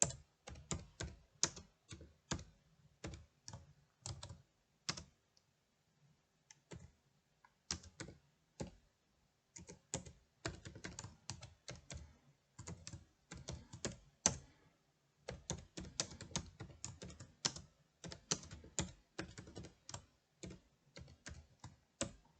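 Rapid clattering keystrokes on a computer keyboard, close and clear, in bursts with short pauses between them; no talking.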